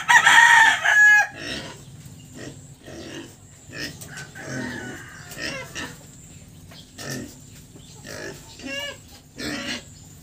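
A rooster crows loudly at the start, followed by scattered clucking and calls from chickens, with a low hum underneath throughout.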